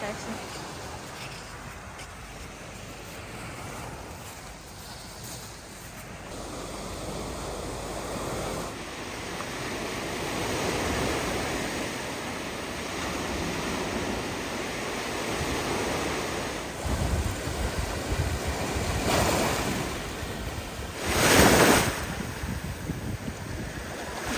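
Sea waves washing on the shore during a beach walk, a steady broadband surf wash with wind buffeting the microphone, continuous throughout with swells rising and falling.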